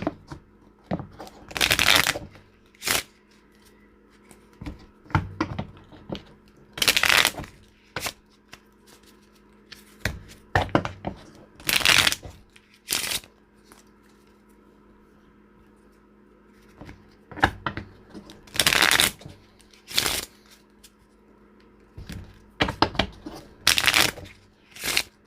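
Tarot cards are shuffled by hand in repeated sharp riffling bursts, close and crisp, separated by quiet pauses and soft card handling over about twenty-five seconds.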